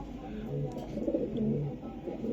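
A female racer pigeon gives soft, low rolling coos in a couple of short phrases, close but quiet over a steady background hum, with no voices.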